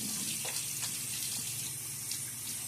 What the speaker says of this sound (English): Quick splash of water.